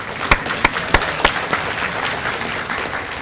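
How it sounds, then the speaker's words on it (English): A reception audience applauds recreation department volunteers, a brisk round of clapping with a few sharp, close claps standing out early before settling into a steady patter. "So a round of applause for those volunteers."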